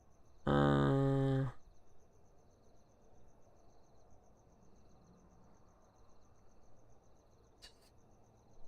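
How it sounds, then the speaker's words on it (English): Crickets chirp faintly and steadily in a video game's ambience, a thin pulsing trill that runs throughout. A loud, brief tonal call breaks in near the start and a short bright blip sounds near the end. "Then I do hear the crickets"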